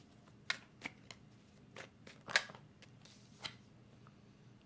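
Tarot cards are shuffled and flipped close by, with scattered soft riffles, slaps and snaps against a quiet background.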